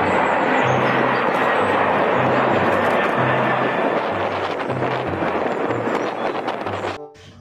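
A toy Garuda Indonesia airplane makes a steady engine-like whir with a low pulsing drone, loud and continuous, then cutting off abruptly near the end.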